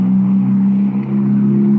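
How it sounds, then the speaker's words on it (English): A steady, low, rough engine hum from a poorly running car idling close by in light rain, droning continuously without pause. "Someone's car sounds like shit."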